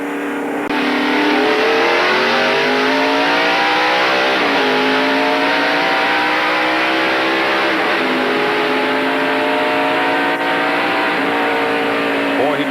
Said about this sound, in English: Let's stay with Jeff Gordon and listen to this restart.